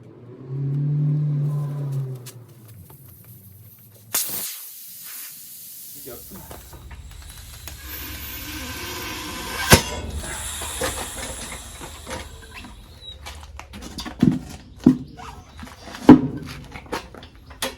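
Air hisses out of a car tyre once its valve is removed, a loud burst that settles into a steady, fading rush with occasional clanks; a voice speaks briefly beforehand.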